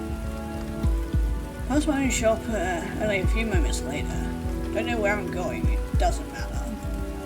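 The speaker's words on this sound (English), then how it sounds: "It's already raining." Rain falls steadily in the video game Tattoos and Tulips, a constant patter running under music and a voice talking throughout.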